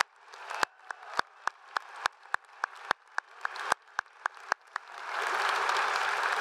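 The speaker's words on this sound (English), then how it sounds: "The audience, please, another round of applause for these talented students." Audience applause at a university undergraduate commencement ceremony, opening as sharp, separate claps close by that build into a dense, sustained wash of clapping from a large crowd.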